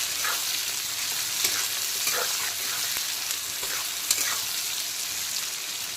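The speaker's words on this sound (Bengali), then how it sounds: "প্রথমে পেঁয়াজ কুচিটাকে হালকা করে ভেজে নেব" Chopped onion frying in oil over low to medium heat for a fish and potato curry. A steady, close sizzle runs throughout, with a few soft stirring clicks and no talking.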